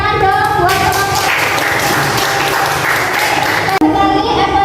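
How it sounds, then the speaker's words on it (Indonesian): A classroom of students claps for a student group after its presentation on the forced cultivation system, a steady broad patter of applause filling the room with some children's voices mixed in, cutting off sharply near the end. "Tepuk tangan dong buat kelompok."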